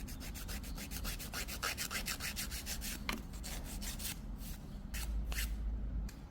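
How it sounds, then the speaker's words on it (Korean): A silk-wrapped nail being filed with a nail file, close-up scratchy rubbing strokes in a quick repeating rhythm, soft and steady throughout. "자, 이제 파일링을 해줍니다."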